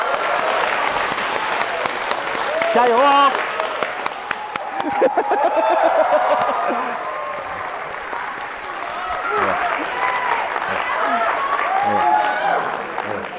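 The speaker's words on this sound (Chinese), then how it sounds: "掌声有请二位" Loud, sustained audience applause and cheering welcome crosstalk performers Luan Yunping and Cao Heyang onto the Deyunshe stage, with a voice shouting encouragement over the clapping, which swells, dips and rises again.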